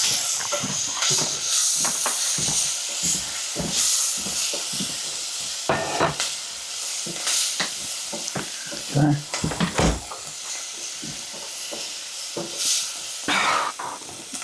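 Garlic sizzles and hisses in a hot pot as it is stirred, with repeated scraping strokes over a steady frying crackle, close and fairly loud, with no talking.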